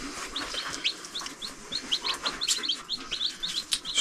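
Baby chicks under a heat lamp on a Portugal homestead keep up a steady stream of rapid, high, thin peeps, fairly close and persistent over a soft background hiss, with no talking.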